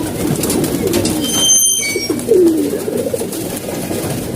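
Pigeons coo steadily in a close-up loft, their low throaty calls repeating continuously and clearly over a busy background.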